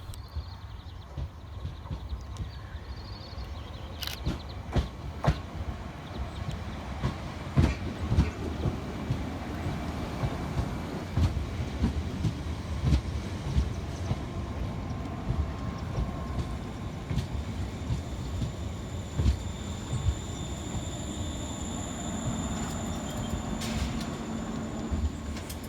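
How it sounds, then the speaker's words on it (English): A ScotRail Class 380 electric train, unit 380-116, arrives at Pollokshields East station on a Neilston to Glasgow Central service, a low rumble with scattered clicks and clanks of wheels over rail, fairly faint and steady. "Arriving next into the station will be 380-116, working the 1552 Scotrail service from Neilston through to Glasgow Central"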